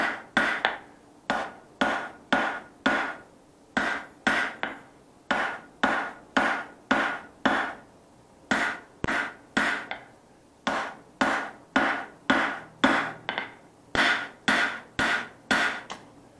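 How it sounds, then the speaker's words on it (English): A hammer strikes hot steel again and again while forging the point of a paring knife, each blow sharp and ringing, the blows falling in quick bursts of three to five with short pauses between, close and alone. "I'm going to go ahead and start forging the point in"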